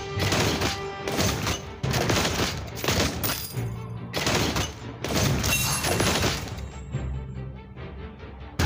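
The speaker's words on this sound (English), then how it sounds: "An enemy turret has been destroyed." Rapid bursts of game combat sound effects in a Marvel Super War mobile battle match, with clustered blasts and crashing impacts coming in repeated waves, loud and layered.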